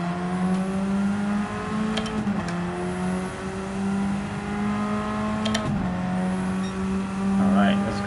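Engine of a lightweight car, no more than 2 litres, revving steadily in Gran Turismo 7, a sustained droning tone with brief dips at gear changes, loud and continuous throughout.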